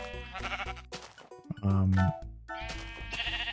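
Sheep bleating in Minecraft, a loud, strong bleat in the middle standing out over a busy backdrop of game music and effects.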